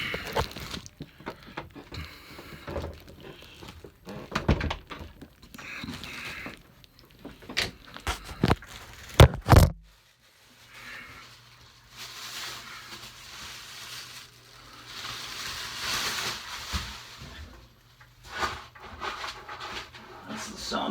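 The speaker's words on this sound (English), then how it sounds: "That's the sound of me cleaning the kitty litter box" Someone scoops out a cat's litter box close by, making irregular gritty scraping, rattling and rustling sounds with a brief quieter pause partway through.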